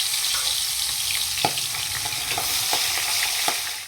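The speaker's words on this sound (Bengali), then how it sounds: "গরম করে নিয়ে দিয়ে দিলাম মাছের মাথা।" A fish head fries in hot oil in a wok, a dense, even sizzle with a few sharp spatula taps and stirring scrapes up close.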